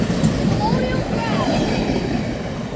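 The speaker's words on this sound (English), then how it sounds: "Amtrak 97 with the Colonial Crafts, Pennsylvania Railroad" Amtrak passenger train with a Pennsylvania Railroad private car passing close by, a loud continuous rumble of wheels and rail noise with faint squeals.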